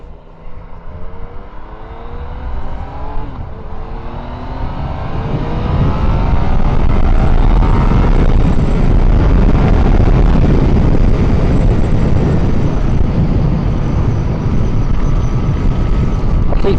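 A 2017 Yamaha MT-09 motorcycle ridden in wet weather, its engine revving and climbing in pitch before settling into a loud, steady roar with heavy wind rush, without pause.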